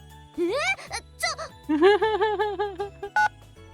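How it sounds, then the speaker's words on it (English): A cell phone keypad in a visual novel game plays rising electronic tones as a number is entered, followed by a short call-button chime, crisp and close with no talk. "enter JB's number, then press the call button without a moment's hesitation"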